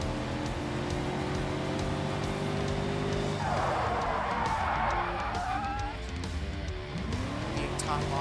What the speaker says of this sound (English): Completely lock up our non-ABS vehicle.